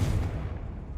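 A single booming blast from the Confringo spell in Hogwarts Legacy, a short, heavy, low thud that quickly decays into a rumbling tail.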